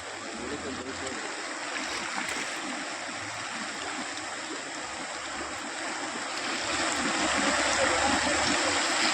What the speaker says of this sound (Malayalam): ശക്തമായ ഒഴുക്കിൽ ഡിങ്കി ബോട്ട് അകപ്പെടുകയായിരുന്നു